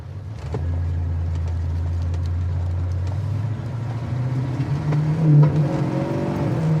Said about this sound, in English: you can hear that secondaries open up on the four barrel